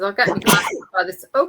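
A single abrupt human sneeze bursts out in the middle of a short stretch of casual talk, loud and close to the microphone.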